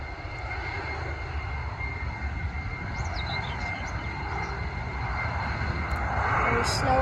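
Airliner engines spooling up at London Stansted Airport, a steady broad roar heard from a distance that grows louder toward the end, with faint chirps in the background.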